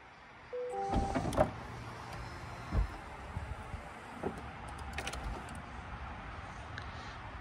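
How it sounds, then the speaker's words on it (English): A Chevrolet C8 Corvette convertible top, driven by six electric motors, cycles with whirring motor runs, a couple of clunks from the mechanism and softer mechanical ticks as it moves, close and without talk. "the convertible top requires six different electric motors to make it work"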